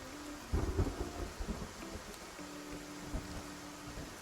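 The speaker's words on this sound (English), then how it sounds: "If the thunder's loud tonight" Thunder and rain from the video game Love and Deepspace: a low rumble rolls in over a soft, steady wash of rainfall, moderately quiet and without talk.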